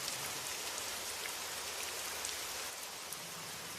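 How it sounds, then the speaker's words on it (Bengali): Heavy rain pours down in a dense, steady hiss, drumming on surfaces without a break. "আজকে খুব বৃষ্টি হচ্ছে"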